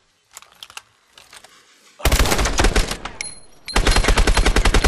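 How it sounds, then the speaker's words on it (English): Gunfire in Call of Duty: Advanced Warfare starts as a few sparse shots, then becomes loud, dense automatic bursts. There is a short lull, and a second rapid volley follows in quick rhythmic cracks. "We'll take them down together. On your shot, Mitchell"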